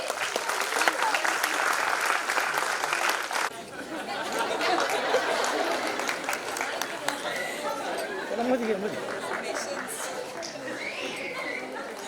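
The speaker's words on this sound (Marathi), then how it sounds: "नक्की जोरदार टाळ्या झाल्या पाहिजे." An audience at a school annual day breaks into sustained applause, dense clapping that fills the hall, with crowd chatter and voices mixed in and continuing as the clapping thins.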